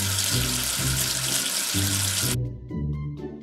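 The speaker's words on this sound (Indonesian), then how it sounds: "Cuci sabun dengan air." Washing with soap and water in a cartoon for children: tap water pours hard into a sink in a loud steady stream with a bubbly, musical rhythm, then cuts off into lighter splashes and drips.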